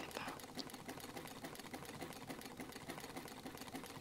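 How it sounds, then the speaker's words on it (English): A sewing machine stitches continuously in rapid, even mechanical pulses, close and steady, amid a faint murmur of voices and chatter at an event. "the sound of his sewing machine as he worked"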